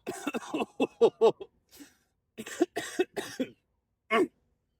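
A series of harsh coughs in quick bursts, a pause, then several more coughs and one final cough, fairly close with no talking.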